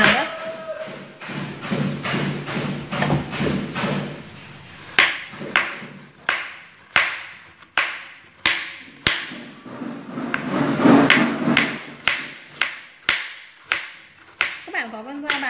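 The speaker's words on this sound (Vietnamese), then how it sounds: "Nếu không thì các bạn dùng dao thường các bạn thái mỏng và nhỏ như mình." A kitchen knife slices kohlrabi into thin pieces, giving a steady series of sharp chopping thuds on a cutting board at close range, with talking over the first few seconds.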